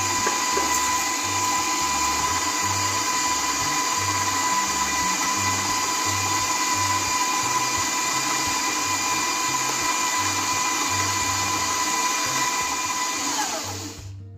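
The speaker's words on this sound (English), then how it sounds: "I'm using my stand mixer today" A stand mixer creams margarine at medium-high speed, a steady loud motor whine with a rhythmic low thumping that holds for most of the time before winding down at the end, close and with no talk.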